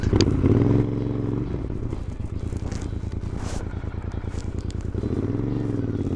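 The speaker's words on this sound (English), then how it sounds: "Proper motorbike sound." A motorcycle engine putters with a rhythmic, throbbing exhaust while riding, revving up near the start and again toward the end.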